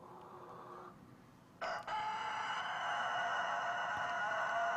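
A chicken clucks briefly, then lets out a loud, sustained crow that stretches on for several seconds, close and clear with no talking over it.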